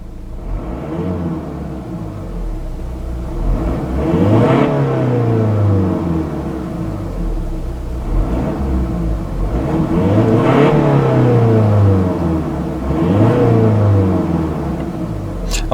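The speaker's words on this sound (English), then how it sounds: "So we'll just get a quick exhaust clip." A 2016 Volvo XC60 SE D4 diesel engine revs up and falls back three times, each rise building to a loud, close rumbling whir before easing off, over a steady idle.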